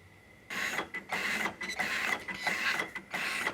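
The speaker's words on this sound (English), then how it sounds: "Let's run the printer for a while" An ICE Vulcan print-and-apply label printer runs at about 83 packs a minute, making loud, close mechanical whirring bursts with a steady high whine and a regular rhythm of short pauses.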